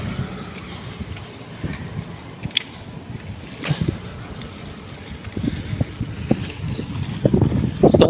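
Gusty wind buffets the microphone outdoors beside a building in a housing complex in Tondo, with low rumbling bursts that swell and strengthen toward the end, no voices.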